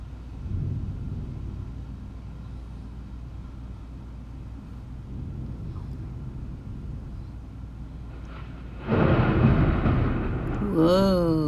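Deep, low rumble of thunder during a storm, rolling on for several seconds before swelling into a louder crack-like surge near the end, heard alone.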